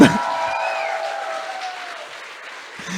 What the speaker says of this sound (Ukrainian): Але дякую за оплески